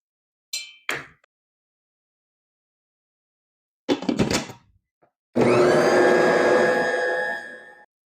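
An electric mixer whirs loudly and steadily for about two and a half seconds, creaming sugar for concha dough, then winds down; a few brief clinks and knocks come earlier.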